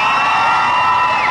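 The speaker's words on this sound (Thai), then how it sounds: "สุดยอดปรบมือสิฮะ" Crowd of fans cheering and shouting with applause at a live launch event for a new candy flavour, dense and loud throughout with high excited whoops.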